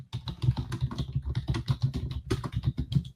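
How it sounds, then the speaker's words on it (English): Fingers typing on a computer keyboard, a quick steady run of close, soft key clicks with a few brief pauses, heard alone without talk. "I'm going to go ahead and type it in our group,"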